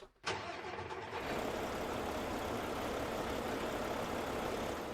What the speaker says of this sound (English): I love the engine sound on it.